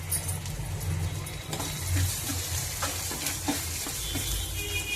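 Ginger garlic paste and green chillies fry in a pan for a taro and brinjal curry, making a close, continuous sizzle with scraping stirs and a few light clinks, and no voices.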